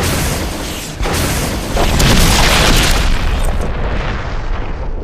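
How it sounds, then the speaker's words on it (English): A rocket launcher explosion from Resident Evil, a loud sustained booming roar that swells after a brief dip and rumbles on for several seconds before slowly thinning out, with no voices. "we eventually get to finish it off with the iconic rocket launcher ending."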